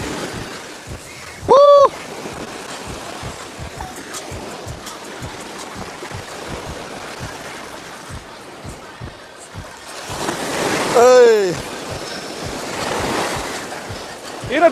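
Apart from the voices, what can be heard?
sea waves on the shore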